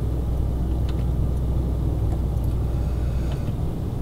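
A truck engine in Euro Truck Simulator 2 gives a low, steady, fairly quiet rumble heard from the cab, continuous and even throughout.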